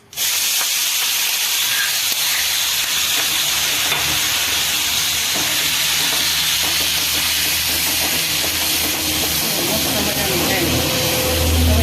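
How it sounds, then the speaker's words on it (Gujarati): Mint chutney is tempered in hot oil in a Kathiyawadi village kitchen and gives a loud, steady hiss and sizzle that carries on unbroken from start to finish. "તો આ ચટણી વઘારું છું"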